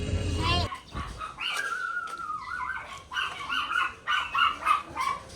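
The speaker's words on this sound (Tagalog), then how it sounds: "Oh, ang daming aso dito." Several dogs, including a German Shepherd, bark and yip in short bursts in Baguio, some near and some farther off, with whimpering in between and a voice briefly at the start.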